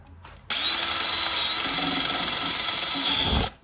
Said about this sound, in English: So we're gonna knock that down with a good drill.